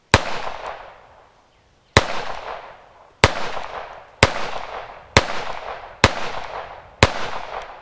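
Seven sharp, loud gunshots from a handgun firing old neglected ammunition, spaced about one second apart with a longer gap after the first, each with a short ringing decay.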